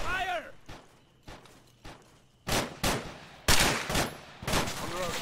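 Loud, close bursts of rifle fire crack out in the ArmA 3 combat game, with single shots and rapid volleys spread over a few seconds and voices calling out between them.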